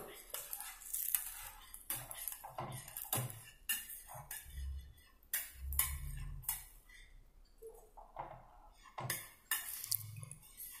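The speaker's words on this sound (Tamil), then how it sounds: "இப்போ மறுபக்கம் திருப்பி போடலாம்." Lentil adai with greens frying in oil on a pan, flipped over mid-cook: repeated clinks and scrapes of a spatula against the pan, with soft sizzling underneath, close and fairly loud.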